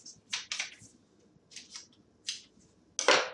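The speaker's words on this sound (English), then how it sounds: "a pair of scissors, cut out your graph paper" Scissors snip through graph paper in a quiet room, a series of short, crisp cuts in irregular bursts, ending with a louder, longer cut.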